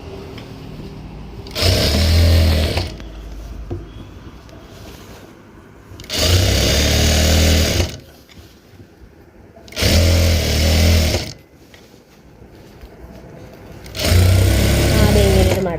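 A sewing machine runs in four short bursts, stitching a folded fabric hem on children's home clothing, with quiet pauses between runs.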